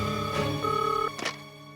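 A telephone rings after a number is dialled to an office line, giving a short tonal ring with harmonic layers that cuts off partway, followed by a brief click-like burst; no talk is heard.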